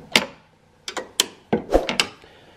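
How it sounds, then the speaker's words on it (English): A number 10 wrench works a bolt loose on the grille of a 2009-2018 Ram truck, making a few separate metallic clicks and clanks spaced unevenly through a quiet moment. "Now I'm using a number 10 wrench to take this bolt out."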